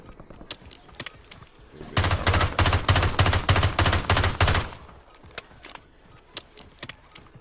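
Pistol gunfire in a video game: a loud, close, rapid volley of about a dozen sharp shots packed into a few seconds. Quieter scattered clicks and taps come before and after it.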